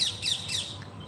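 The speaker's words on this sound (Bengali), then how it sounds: "টিয়া পাখি ডাকছে" Parakeets squawk repeatedly from a large old tree beside overgrown quarters on a drizzly afternoon, a string of shrill, rasping calls at moderate distance over a quiet background.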